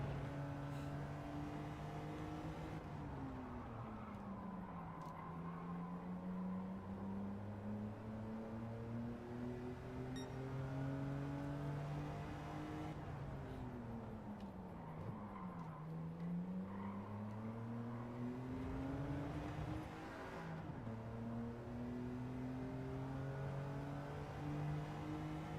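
BMW Z4 engine in Gran Turismo 7, a smooth, steady engine drone rising through the gears with clear upshift dips roughly every few seconds, sustained and fairly quiet, no voices.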